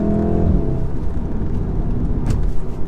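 A 2015 VW Golf R with a DSG gearbox pops and burbles through its exhaust on a drive, a loud rumbling engine drone steady under the crackles, with a sharper bark near the end.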